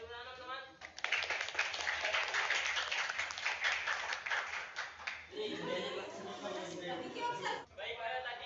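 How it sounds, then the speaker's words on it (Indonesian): Classmates clapping in a classroom during a practice teaching lesson, a burst of fairly close, quick claps for a few seconds, with talking heard before it and voices returning as the clapping dies down. "Kasih tepuk tangan teman-teman"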